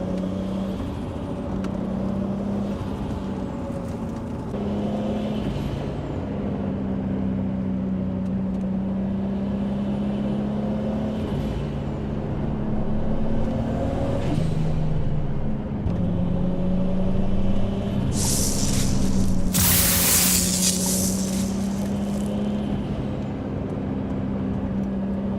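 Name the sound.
car turbo noises in a racing video game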